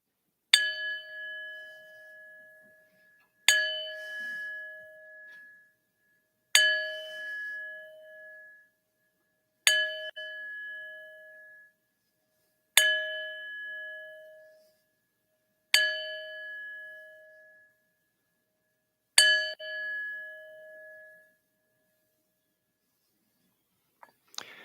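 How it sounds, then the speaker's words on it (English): A single bell struck seven times at an even, unhurried pace during a Unitarian Universalist church service; each clear ring sounds alone and fades before the next. "I'm going to ring the bell 7 times in honor of our Unitarian Universalist 7 principles."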